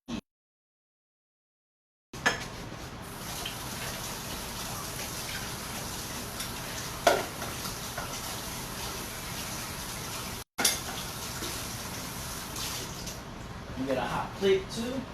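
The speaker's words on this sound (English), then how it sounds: "Let me wash off this ladle. It's filthy." Running water splashing and rinsing as a dirty ladle is washed in a kitchen sink during Chicago deep-dish pizza prep, a steady faint wash after a brief silence, with a short break partway through.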